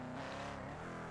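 A damaged car driving in GTA FiveM, a steady engine drone with shifting tone, moderately loud and continuous, no speech over it.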